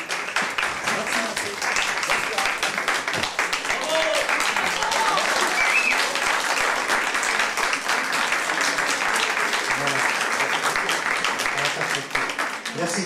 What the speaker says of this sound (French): Je vous demande d'abord d'applaudir très fort Francis.